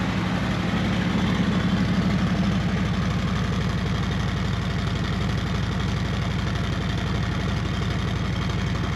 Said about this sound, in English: Cold start. RPMs are up a little bit higher.